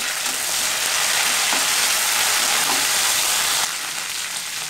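Curry leaves and coriander fry in hot oil for bitter gourd kuzhambu, a loud continuous hiss and crackle that eases slightly near the end, with faint stirring knocks.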